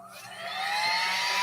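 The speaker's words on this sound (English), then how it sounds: "I'm going to hit this with a heat gun for a little bit" A heat gun dries bleached and stencil-painted denim with a steady, close whooshing blower roar that rises slightly in pitch and loudness as it spins up.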